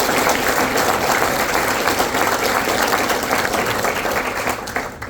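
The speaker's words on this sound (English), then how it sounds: "How about another round of applause?" Dense, loud audience applause fills a celebration honoring Larry O'Donnell at Everett High School, sustained steadily throughout and fading slightly near the end.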